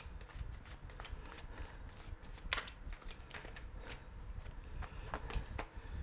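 Tarot cards, all major arcana, riffled and shuffled by hand in a steady run of crisp flicking snaps and papery slides, close and moderately loud, with no talking.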